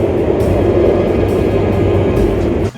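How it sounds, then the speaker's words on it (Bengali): A Nanjing metro train at a station, producing a loud, steady low rumble and hum of rolling carriages that fills the whole stretch close by, with no voices, before dropping off abruptly at the very end. "এটা হইলো আমাদের নানজিংয়ের মেট্রো রেলের আর কি স্টেশন এখন আমরা মেট্রোতে আসি"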